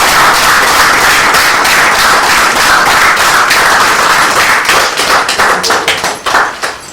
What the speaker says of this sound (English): Please can I have a round of applause for them.